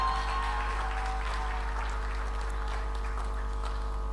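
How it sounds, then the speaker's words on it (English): A pitching event audience gives a round of applause, light scattered clapping over a constant low electrical hum from the room's sound system. "round of applause."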